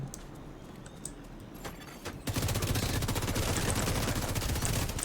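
Dense rapid bursts of automatic gunfire from a PvP match in The Division 2 erupt after a quieter opening and keep up a loud, continuous rattle of shots until the end.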